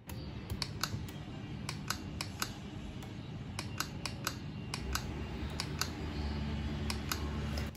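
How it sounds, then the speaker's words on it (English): Small, sharp electronic clicks and taps from MacBook Pro Touch Bar sound-effect app, irregular bursts of quick ticks over a faint steady room hiss, quiet and close. "So now whenever I touch anything on a touch bar, it can create sounds"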